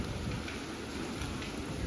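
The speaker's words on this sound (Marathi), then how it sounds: "हे बघा पाऊस पडायला लागला आणि वीज पण कडाडत होतो" Heavy rain pours steadily with a faint low rumble of thunder underneath, a dense, even hiss and no talking.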